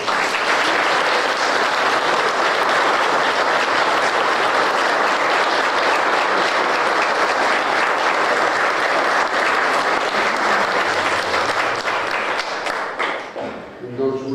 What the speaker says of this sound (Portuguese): Vamos saudá-lo com uma salva de palmas.